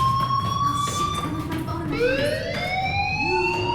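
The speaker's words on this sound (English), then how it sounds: "do you hear that fire alarm?" A rising and falling siren-like fire alarm wails continuously in the Life is Strange video game, loud and steady with overlapping tones and faint game ambience beneath.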